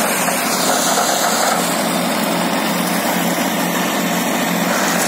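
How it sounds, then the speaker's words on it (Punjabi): A tractor engine runs steadily and loudly nearby, a constant droning rumble with no talking. "ਬੜੇ ਚੱਜੇ ਢੰਗ ਦੇ ਨਾਲ ਟਰੈਕਟਰ ਚੱਲ ਰਿਹਾ ਹੈ ਤੁਸੀਂ ਦੇਖ ਰਹੇ ਹੋ"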